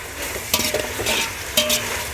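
Green chillies, onion, ginger paste and tomatoes sizzling in hot oil while being stirred, with a steady fry hiss and a couple of sharp scraping strokes, close and alone.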